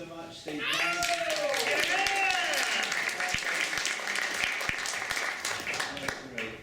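An audience applauds, a dense wash of clapping that swells after a brief opening and holds steady. A voice rises and falls over it early on, and a few sharp individual claps stand out toward the end.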